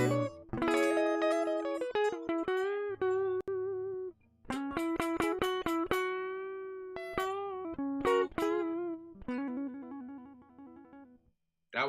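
Live electric guitar playing jazzy, bluesy chord voicings through an effects unit, ringing sustained chords with crisp attacks and short pauses between phrases, close and fairly loud with no talking.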